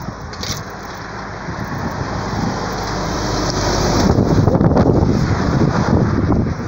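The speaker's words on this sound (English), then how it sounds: "There's a truck coming." A truck approaching on a countryside road while someone rides a bike, with engine noise swelling steadily louder through strong wind buffeting on the microphone.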